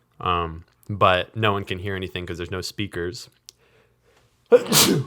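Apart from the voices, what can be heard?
sneeze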